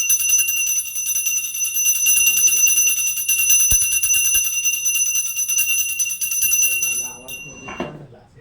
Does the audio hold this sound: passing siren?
no